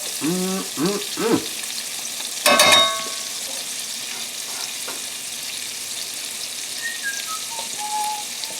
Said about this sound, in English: we're going to add these shallots. Diced up some shallots